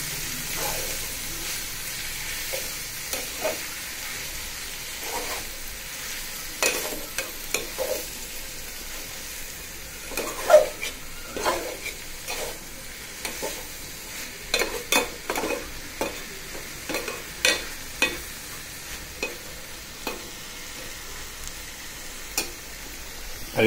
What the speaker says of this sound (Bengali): আরেক চুলায় আমার শুটকির ভর্তাগুলো তেলে দিয়ে দিলাম